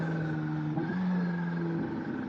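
A Kawasaki ZH2 motorcycle rides along, its engine a steady drone with a brief dip and change in pitch as it shifts gears, heard continuously with no talking.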